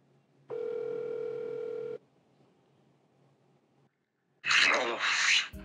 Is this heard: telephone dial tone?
yes